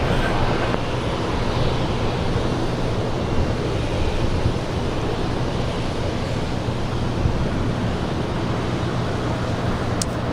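A Southwest airliner takes off from runway 24 left at LAX, heard as a steady broadband jet roar that holds for about ten seconds at a distance and is blurred by wind on the microphone.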